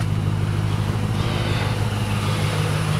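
A Hemi engine fitted with deep throaty mufflers, a K&N filter and a Cortez tune idles steadily, a loud close low rumble with an even throb and no revving.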